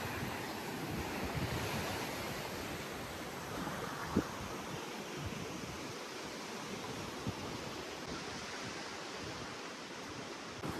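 Sea waves washing ashore at Colva Beach in Goa, a steady broadband roar of surf mixed with wind buffeting the microphone, continuous and fairly loud with a couple of faint knocks.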